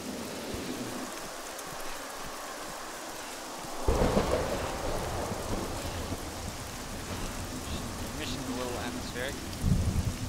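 A thunderstorm with rain in Arma 3: steady rainfall hisses throughout, then a sharp close thunderclap cracks and rumbles on, with a second boom near the end and brief voices in between.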